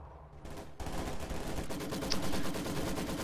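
A Maxim machine gun in a Company of Heroes battle rattles off a sustained burst of rapid, evenly spaced shots, starting abruptly after a short quiet moment and continuing loud and close to the end.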